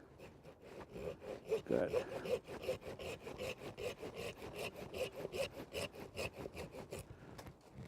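Repeated strokes of a hand pruning saw cutting through a tree branch in a garden, a steady back-and-forth rasp up close, with a brief spoken word.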